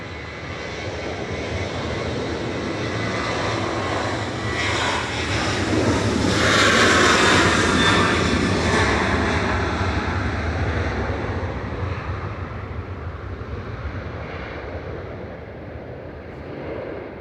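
A jet airliner departs Manchester Airport bound for Tangier, its engine roar loud and sustained, swelling to a peak midway and then slowly fading as it climbs away, with some wind noise over the microphone.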